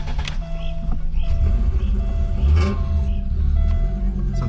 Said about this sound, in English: So you turn the key forward to accessories, get your nice beeping tone.